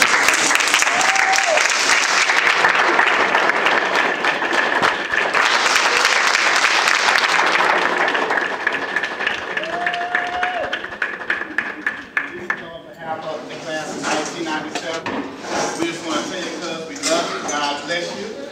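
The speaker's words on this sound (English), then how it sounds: "I think we ought to give him a standing ovation at this time. And a round of applause." Sustained applause and clapping from a crowd at a surprise appreciation celebration, loud and continuous throughout, with a brief dip before it swells again and voices mixed in.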